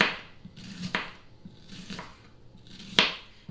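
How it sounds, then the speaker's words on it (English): Knife slicing half an onion thinly on a cutting board, with soft rhythmic cuts and three sharper knocks about a second apart, close and fairly quiet. "we're going to slice our onion kind of thin because we're going to want these kind of caramelized"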